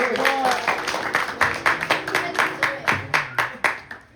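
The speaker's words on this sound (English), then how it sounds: "Give him a round of applause." Applause from an audience at a Navratri night religious gathering, clapping that turns into rhythmic claps, heard under talking voices.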